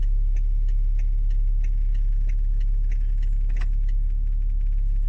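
Hazard lights clicking inside a BMW X5 E70 SUV, a steady, even ticking repeating about every quarter second over a constant low engine idle hum.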